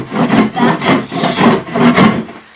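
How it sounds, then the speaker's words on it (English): A tool scrapes stuck dirt and droppings off a goat barn floor in five rhythmic, rasping strokes, loud and close with brief gaps between each push. "Do this to scrape them off."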